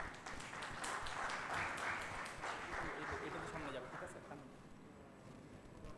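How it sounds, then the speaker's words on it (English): Conference audience at a golden jubilee celebration in Bhubaneswar claps for a co-author, a fairly quiet, distant patter of hands under a voice at the start. "big applause for Raihan Farhad Shakil"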